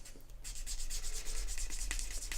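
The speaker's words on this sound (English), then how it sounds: "That's the sound of it starting to become burnished" Burnishing tool rubbing along a leather edge, tipped gently back and forth, giving a steady close squeaky friction whisper with a brief rise in brightness as the leather starts to shine.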